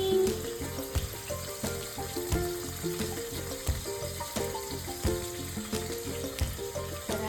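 Chillies hiss into a pan of frying biryani masala with tomato, giving a steady crackling sizzle punctuated by rhythmic scraping and stirring knocks, close and moderately loud, with no talking.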